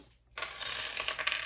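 Plastic sewing clips snapping onto fabric layers pinned right sides together along a zipper: a short hush, then a close, bright stretch of rapid clicks and light plastic rattling lasting about a second, with no voices.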